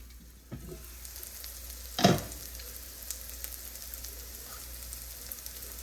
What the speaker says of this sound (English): I'm going to cover my pot, and I'm going to turn it down to a high to medium heat, and I'm just going to let the veggies spread out